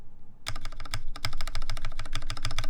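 Spacebar keys of a Linworks x TGR Dolice prototype keyboard, the 2.75U and 2.25U right spaces, tapped in a quick steady run of close, crisp clacks after a short quiet start, with no talk.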